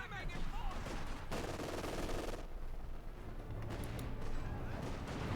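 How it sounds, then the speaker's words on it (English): In a Company of Heroes 2 match, explosions from mines and gunfire crackle continuously in a dense, chaotic battle mix, with a few heavier blasts underneath. "More explosions, more mines, this time on Caosak's engineers."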